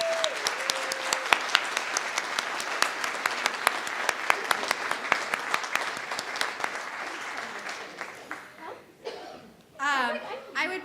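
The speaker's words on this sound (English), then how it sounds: "let's give them a round of applause" An audience at a Bay Area kick-off event applauds an advisory group, a crowd of sharp claps ringing out steadily, thinning toward the end as light chuckles and voices rise.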